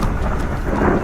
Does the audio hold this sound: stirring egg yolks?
no